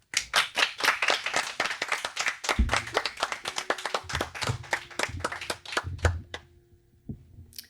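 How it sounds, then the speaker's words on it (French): A studio audience claps for a guitar-and-voice singer on a French TV special. The applause is dense, steady and close, then thins out and tapers away over the last second or two. "Sous vos applaudissements."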